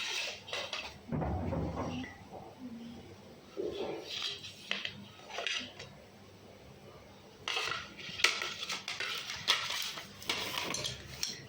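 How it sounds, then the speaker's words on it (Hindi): Spoons clinking and rattling against one another as they are picked up and handled, in bursts of metallic chinks separated by quieter pauses, close by with no talk. "ये स्पून्स हैं।"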